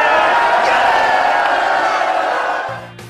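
A crowd cheers and whoops in a loud, continuous burst of enthusiasm that fades out over a few seconds.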